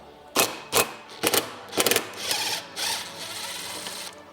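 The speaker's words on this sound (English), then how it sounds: "Go ahead and grab that impact gun and see if you can impact it off." An impact gun hammering on a rusted engine stud bolt of a dirt bike, several short loud mechanical bursts in quick succession, then a longer rattling run that fades into a faint hum, with no talking.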